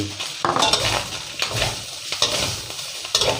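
Pork with garlic, ginger and coriander root stir-frying in a pan: a steady sizzle over repeated scrapes and clinks of a utensil against the pan, close and busy, with no talk.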